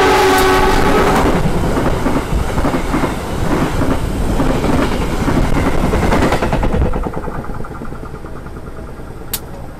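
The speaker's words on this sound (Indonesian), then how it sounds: "kereta api Pasundan tambahan sudah tiba di Stasiun Banjar" A Pasundan extra passenger train rumbles and clatters loudly into Banjar Station, Indonesia, wheels clacking rhythmically, with a short horn blast at the start, then slowing and quieting as it draws in.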